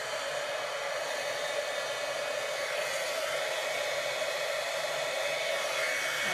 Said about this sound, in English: Okay, so I'm going to bring in my heat tool. I'm just going to let it warm up for just a few seconds.